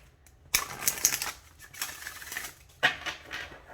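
Crisp papery flutters of oracle cards being shuffled, two distinct bursts of riffling with softer shuffling in between, close and fairly quiet.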